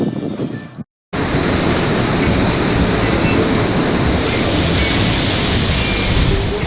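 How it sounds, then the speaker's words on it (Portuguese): Santa Isabel waterfall roars as a steady, loud, broadband rush of falling water after a brief silent gap, filling the scene without pause. "Vem conhecer aqui a cachoeira com a gente"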